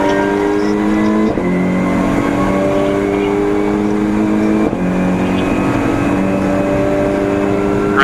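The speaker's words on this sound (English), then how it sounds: "There's Tony Gillam in the older Mark V Golf." A VW Golf Mk5 race car is driven hard on a racing circuit, its engine droning loud and close through rising revs, with two quick gear changes breaking the climbing tone.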